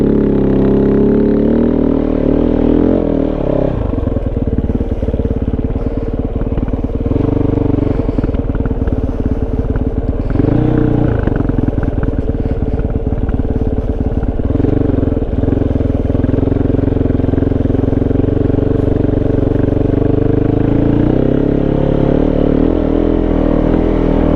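Kove 450 motorcycle fitted with a Dominator exhaust, off-road airbox and 230.1 tune, ridden off-road; a loud, steady engine drone with rising and falling revs and clattering runs throughout, alone with no voices.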